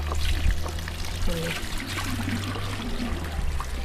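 Soapy water pouring and trickling outdoors in a garden, a steady liquid stream over a low hum with light background activity.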